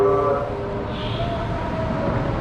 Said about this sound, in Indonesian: Macam di Jepang ya kereta apinya ini.